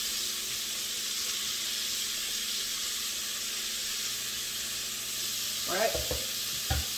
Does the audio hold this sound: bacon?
yes